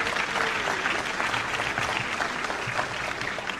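Broad, sustained applause from a large audience at an MLK weekend award event, continuous and fairly loud with no voices standing out.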